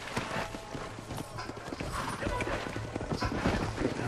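A horse gallops in the Red Dead Redemption western game, rapid clip-clopping hooves pounding steadily at moderate loudness, with a voice talking over the hoofbeats.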